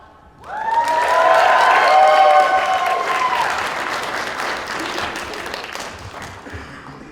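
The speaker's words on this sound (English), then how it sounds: "please come on to the stage so everybody in the audience may cheer for you easier" An audience at the Colossalcon East 2019 in-character cosplay contest bursts into loud, sustained applause and cheering close by. A few tonal whoops ring out at first, then the clapping slowly thins over several seconds.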